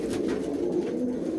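Pigeons coo in a low, rolling murmur, a soft continuous burble close by, with no voices over it.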